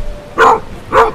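A Griffon fauve de Bretagne hunting dog gives two loud, close barks about half a second apart.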